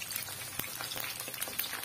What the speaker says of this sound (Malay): Ni kita goreng, bagi dia garing lah.